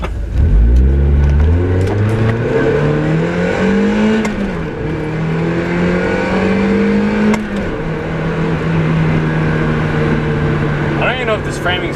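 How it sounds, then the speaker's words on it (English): A Mazda Miata engine revs up hard from inside the moving car, its rising pitch climbing then holding as the car cruises, loud and steady, with brief upshift dips. "I just want to take you for a little ride on the Miata"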